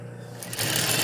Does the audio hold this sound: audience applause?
no